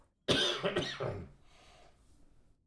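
A single close cough, a quick burst of rough hacking, then fading breathy quiet.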